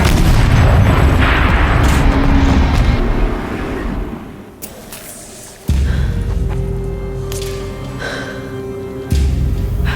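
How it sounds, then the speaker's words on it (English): Turret fire in the video game Horizon Zero Dawn comes as loud, heavy booming blasts over a deep rumbling bed, with a sharp new impact near the middle and another toward the end. "Rotate turret! And fire!"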